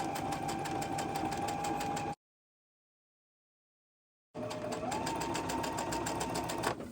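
A sewing machine chain-stitches fabric pieces for a quilt square, running in a steady fast mechanical whir, close and loud, stopping for a couple of seconds of silence before starting again.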